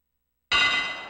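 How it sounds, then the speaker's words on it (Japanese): The bell marking the start of a pro wrestling match rings out with a single sharp metallic clang that breaks the silence and then rings on, slowly fading. "さあ運命の鐘が鳴った。"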